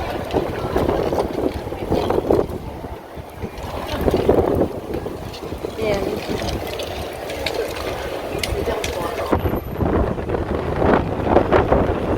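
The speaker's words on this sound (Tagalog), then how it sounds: "Windy." Wind gusting outdoors beside the MediaCorp building while people wait for a taxi, a steady broadband rush with buffeting on the microphone throughout, no speech.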